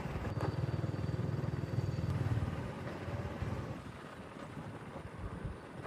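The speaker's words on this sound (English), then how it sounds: "First, I ride my motorbike to the bus stop." A motorbike engine rumbles steadily close by on a ride through the outskirts of Hanoi, Vietnam, with wind buffeting the microphone; the low drone eases slightly toward the end.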